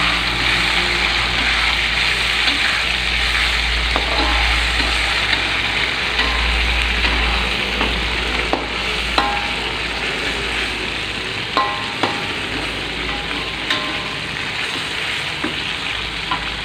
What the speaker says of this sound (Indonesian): Daun salamnya tak masukin, aduk-aduk ya.